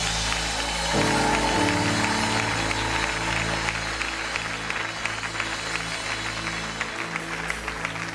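Church congregation applauding and cheering together, a steady wash of clapping with crowd noise over sustained organ or keyboard tones throughout.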